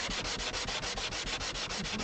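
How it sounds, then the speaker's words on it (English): A sanding block rubbed back and forth against an acoustic guitar during a repair, steady rhythmic rasping strokes, close and continuous with no talk. "just want to be really careful in this part of the repair to not scratch up the finish on this guitar with this sanding block"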